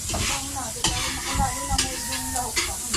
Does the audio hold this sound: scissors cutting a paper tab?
no